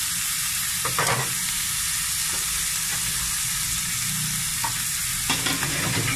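Onion and ginger sautéing in a hot pan, a steady loud sizzle throughout with occasional stirring scrapes.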